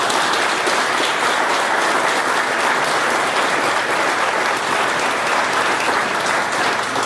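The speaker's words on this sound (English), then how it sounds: "thank you all for the round of applause" A large audience gives a governor of Pennsylvania a sustained round of applause at a distribution center event, dense steady clapping filling the whole stretch without any voices.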